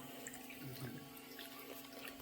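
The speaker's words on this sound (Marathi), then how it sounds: "बघू शकता कशा प्रकारे गोमुखातून पाणी पडते" Water spills steadily from a carved stone cow-mouth spout at the Godhneshwar temple in Lonavala, a continuous close splashing stream with no pauses and no voices.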